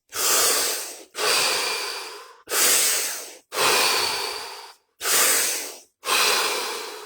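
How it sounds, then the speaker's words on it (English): Slow, deep breathing during a guided stillness session, six long loud airy breaths in a steady rhythm with brief pauses between, close to the listener and without talk. "5 deep breaths. Here we go."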